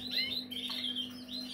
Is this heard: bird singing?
yes